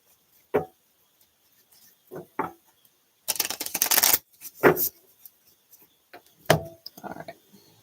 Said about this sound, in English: Get a good shuffle on these cards.